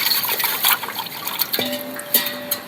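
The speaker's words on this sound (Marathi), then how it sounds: "आता ह्याला पाण्यात धुतो." A small container is rinsed in water, with splashing, trickling and dripping sounds at close range, fairly quiet and irregular, plus a brief ringing knock partway through.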